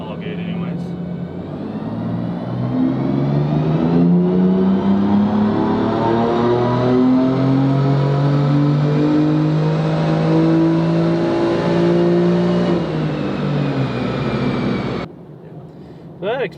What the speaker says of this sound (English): We're doing a 4th gear pull because it wants to light up the tires